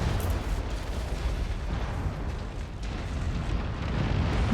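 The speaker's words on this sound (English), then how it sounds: "Oh no, ammo explosion." An ammunition explosion on a mech in a video game battle, heard as a loud, sustained, dense rumbling roar that continues steadily for several seconds with no talk over it.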